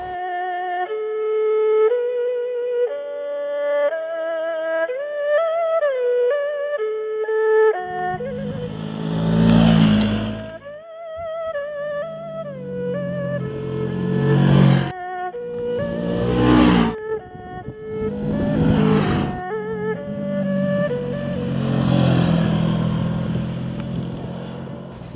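A CF Moto 650 NK parallel-twin motorcycle: after a steady tonal melodic opening, the engine comes in with loud revving surges that rise and fall repeatedly as the bike accelerates and shifts.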